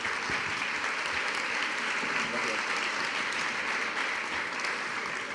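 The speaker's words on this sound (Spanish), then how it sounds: "Un aplauso para todos ellos, por favor." A loud, sustained burst of audience applause at a school-education Erasmus+ conference in Spain, thick and unbroken clapping from a large crowd with a faint murmur beneath it.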